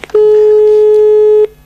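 A telephone line on a failed call gives a single loud, steady electronic tone that holds for over a second before cutting off, with faint noise before and after.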